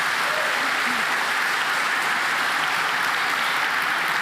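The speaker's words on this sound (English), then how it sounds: "Big applause for Susanna." An audience at the Laracon EU developer conference in Amsterdam applauds a speaker, dense continuous clapping filling the room at an even level throughout.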